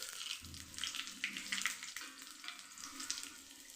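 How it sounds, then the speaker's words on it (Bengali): Whole spices, fenugreek, cardamom, mace, cumin, bay leaf, cloves and cinnamon, crackle and sizzle in hot oil for a chana paneer masala tempering, a steady close hiss with light pops and a few soft clinks. "এই গোটা মশলাগুলোকে আমি এবার ফোড়নে দিয়ে দেব তেলে।"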